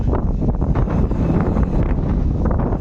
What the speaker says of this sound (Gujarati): પવન એટલો આવે તો આવે એવું છે